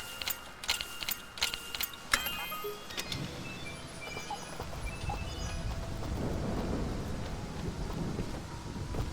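Thunder and steady rain from the video game Dust: An Elysian Tail, with sharp crackling strikes and clicks early on, then a broad rumbling rain wash that builds and stays loud.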